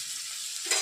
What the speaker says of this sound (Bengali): পরিমাণ মতো নুনটা দিয়ে দেবো, পেঁয়াজের সঙ্গে ভাজা হয়ে যাবে।